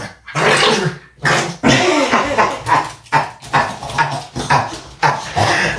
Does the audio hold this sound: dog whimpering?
yes